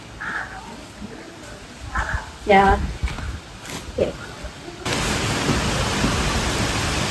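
Wind and heavy rain outside start abruptly as a loud, steady broadband rush, after a stretch of people talking indoors.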